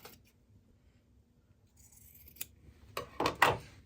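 Scissors snip the corners off quilt block fabric, a few quick close cuts after a quiet start.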